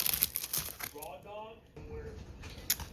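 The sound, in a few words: Mylar sheet being torn off freestanding lace embroidery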